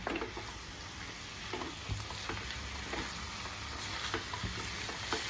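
Chicken pieces with ginger garlic paste sizzle and fry steadily in hot oil, a continuous crackling hiss with scattered louder pops and occasional stirring knocks, close and even throughout.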